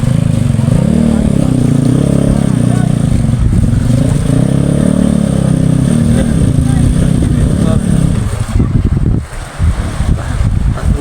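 A motorcycle engine runs loudly and close, with a steady low drone and slight pitch swells as it rides along, and wind buffets the microphone, turning rougher near the end.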